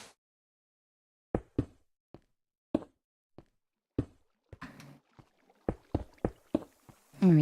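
Blocks being broken in Minecraft inside a Lush Cave, a sparse series of short, dull knocking thuds at irregular intervals, quiet between hits and close to the listener.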